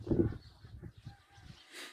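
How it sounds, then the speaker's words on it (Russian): Geese honk a few times at a moderate distance, the calls rough and uneven, with faint wind in the background. "Вон там гуси ходят у нас"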